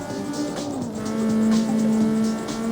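A street racing car in the video game CarX Street drives with a steady, loud engine drone that rises slightly in pitch partway through, continuous and close, with no talk over it.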